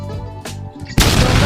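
Bomb explosion in a video game, a sudden loud burst that cuts in near the end after softer game sounds and stays dense and noisy to the close.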